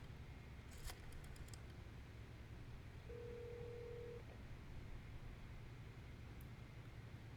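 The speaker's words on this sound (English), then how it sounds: "Hangs up one phone and then picks up another." A telephone in the video game Metal Gear Solid 3 gives a single steady tone lasting about a second, with a few faint handset clicks before it, under a low, constant background hiss.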